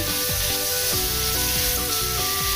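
Chopped ginger, garlic and onion sizzle loudly and steadily in a hot pan, a close continuous frying hiss with stirring scrapes and no talk.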